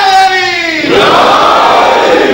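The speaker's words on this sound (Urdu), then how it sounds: "رشوت میں نعرے نہیں چاہیے مجھے" A large crowd at a Shia religious majlis gathering shouts slogans in unison, a loud, near roar of many voices that rises and swells briefly.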